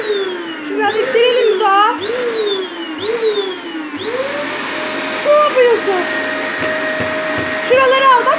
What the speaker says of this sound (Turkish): Kendi süpürgenle mi süpüreceğiz?